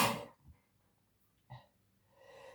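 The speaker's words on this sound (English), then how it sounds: "And now I have to sneeze." A single sneeze from a woman at home, a sharp burst at the start followed by quiet breathing, a small sniff and a faint exhale, close and otherwise silent.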